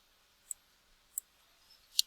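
A computer mouse clicking three times, sharp faint ticks spaced about half a second apart in a quiet room, with nobody speaking.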